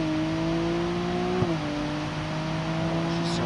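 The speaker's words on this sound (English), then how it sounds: "See, she builds up way more boost with this new turbo." A car engine in the BeamNG driving game, fitted with a new turbo, holds a steady droning rev, its pitch dipping briefly midway before settling, with a faint whir over it.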